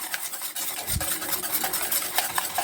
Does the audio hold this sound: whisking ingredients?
yes